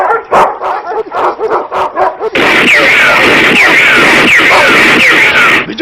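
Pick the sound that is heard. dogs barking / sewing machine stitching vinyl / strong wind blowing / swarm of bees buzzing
dogs barking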